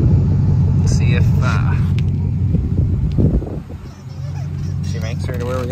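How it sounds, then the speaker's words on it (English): A Chevy 1500 truck driving down the road in front-wheel drive, its engine rumbling steadily up close before easing and settling into a lower drone; no one speaks. "Take this down the road in front wheel drive mode"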